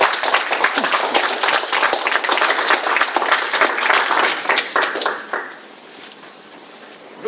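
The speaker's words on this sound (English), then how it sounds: "Round of applause." A club speakers' contest audience claps to welcome a speaker to the stage, dense, fairly loud group applause that holds steady, then thins and fades toward the end.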